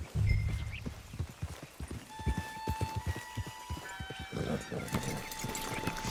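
Horse hooves clip-clopping in Red Dead Redemption 2, a steady run of distinct hoofbeats on the ground with a brief whinny at the start, faint background tones and quiet voices nearby.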